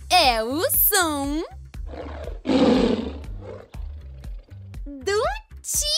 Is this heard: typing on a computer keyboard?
no